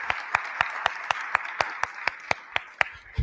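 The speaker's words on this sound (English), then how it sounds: "Let's give them a round of applause for a great conversation." An audience applauds at a live panel discussion event, a steady wash of many hands clapping with sharp individual claps standing out, fairly close and sustained throughout.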